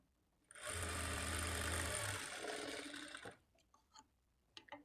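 A sewing machine stitches a blouse shape belt in a short loud burst of rapid whirring, then stops, leaving a few soft clicks and handling sounds.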